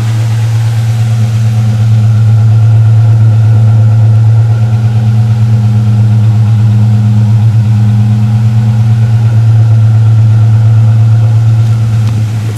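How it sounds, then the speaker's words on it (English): A cold car engine idles after a Slick 50 engine treatment, giving a loud, steady low hum with an even, unbroken rumble throughout and no talking. "It sounds good, considering it's cold. I think that stuff is making the engine quieter."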